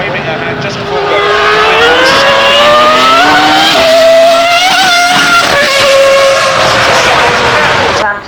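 A racing car with a 1.5 litre engine runs at Goodwood Festival of Speed, its loud engine note rising and falling through gear changes as it passes close by, with a crowd and a commentator's voice mixed underneath.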